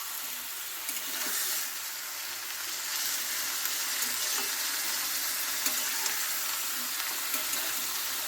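Chicken pieces frying in hot oil while being lightly stirred, a steady close sizzle with soft scraping and stirring clicks throughout, no voices.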